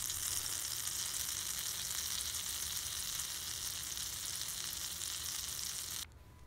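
Butter melting and sizzling in a pan on a parabolic solar cooker, a steady, even hiss of frying that holds for several seconds before cutting off abruptly.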